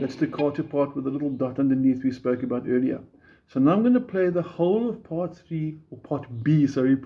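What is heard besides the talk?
No everyday noises stand out.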